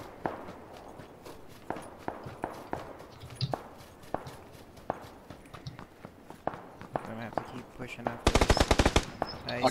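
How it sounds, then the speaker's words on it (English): Footsteps patter steadily in PUBG gameplay, then a rapid, loud burst of automatic gunfire rattles out near the end. "That guy's shooting."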